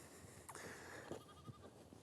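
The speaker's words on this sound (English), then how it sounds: "I just let my sheep into the next paddock, and this one didn't follow its mama, so this is the sound it makes when it's looking for mama" A Katahdin lamb left behind in a paddock bleats for its mother on a cold farm, giving a few short, faint calls over quiet outdoor background.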